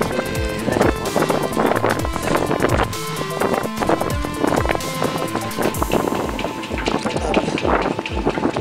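Rough, gusty wind buffets the microphone continuously, loud and close, with clattering bursts throughout.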